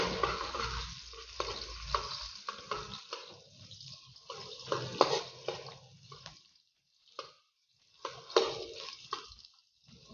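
Onions sizzle as they hit hot oil for a sotanghon dish, a close, crackling fry broken by stirring and scraping, with short quiet gaps between bursts.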